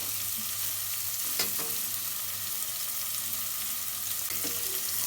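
Onions frying in oil in a pan, a steady close hiss and crackle throughout, with a couple of faint clinks of a spoon.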